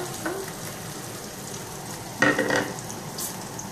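Sausage fried rice sizzles in a pan while a spatula stirs it, a steady frying hiss swelling into a brief burst of scraping and clatter midway.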